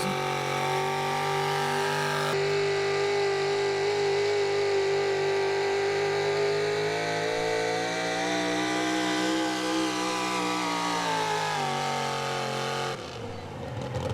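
Judgment Day, a big block high-output 4x4 pulling truck, runs a full-throttle pass at a truck pull, a loud sustained engine roar whose pitch slowly shifts before cutting off abruptly near the end.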